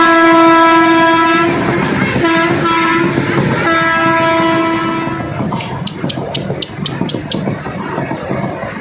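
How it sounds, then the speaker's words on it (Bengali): A train passes close by, its long, loud horn blaring for several seconds before the wheels take over with a rhythmic clickety-clack as the cars roll past. "এখন ট্রেনটা আসবে, ট্রেনটা দেখবো তারপরে যাবো।"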